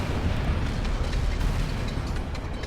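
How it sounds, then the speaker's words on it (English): Artillery shells explode on target in the World in Conflict video game, a dense, loud, continuous rumble of overlapping blasts that carries through without letup. "Putting rounds on target."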